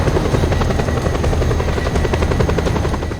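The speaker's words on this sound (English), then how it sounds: "I'm going up to try to avoid the helicopter behind me." A helicopter chases the player in the video game Just Cause 2, its rotor thrumming loud and steady from start to finish with no speech over it.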